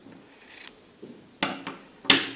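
Scissors snip through crochet yarn while finishing a mosaic crochet border: a few short, crisp cuts with rising loudness, the last one the sharpest, close by with no talking.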